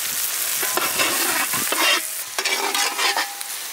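Chopped tomatoes fry in hot oil in a pan for a village-style fish curry, a loud close sizzle broken by scraping stirring strokes of a spoon, continuous with no voices.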